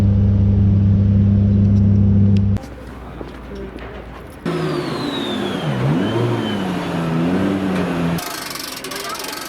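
Nissan S14 car engine revving at a track day, a steady high drone that cuts out, then returns with rising and falling revs, loud and close, with people talking in the background.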